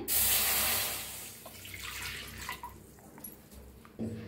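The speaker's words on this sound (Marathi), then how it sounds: "पॅन आपला चांगला गरम झालाय, त्याच्यात वतूया आपण पाणी" A sudden hissing rush of water hitting a hot pan, quickly fading into a quieter bubbling splash.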